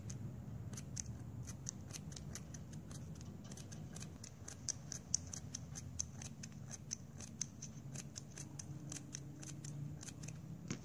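Zigzag scissors snipping along a plastic straw, a quick series of crisp, close clicks repeating at a steady rhythm over a faint background hum.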